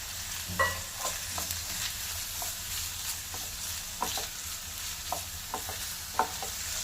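Chicken is stirred into a frying pan of vegetables for chicken chop suey, a soft steady sizzle with scattered scraping spatula clicks and taps, close and moderately quiet with no talk.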